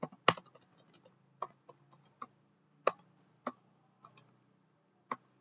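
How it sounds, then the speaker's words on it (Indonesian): Typing on a computer keyboard while entering a Linux terminal command: a dozen or so sparse, sharp key clicks in an irregular rhythm, close and quiet, with no voice. "kita ketik lagi huruf K"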